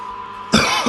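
A neighbor clears his throat and coughs in one short, rough burst. It is a moderate, fairly near sound against a steady background hum.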